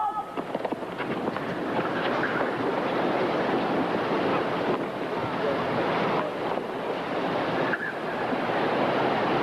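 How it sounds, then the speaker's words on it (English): Gusty wind buffets the microphone throughout an outdoor tennis match on a blustery New England day at Stratton Mountain in 1986, a steady loud roar that swells and dips without a break. "The wind blew that ball right into him"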